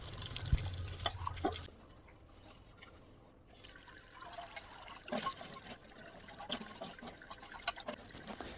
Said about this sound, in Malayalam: കുറച്ച് പാത്രങ്ങളൊക്കെ ഉണ്ടായിരുന്നു, അതെല്ലാം അങ്ങ് കഴുകി മാറ്റി വെക്കുക കേട്ടോ.